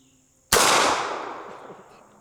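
A single sharp, loud gunshot from a Bond Arms Stinger 9mm derringer fired one-handed, with a sudden crack followed by a decaying echo over about two seconds.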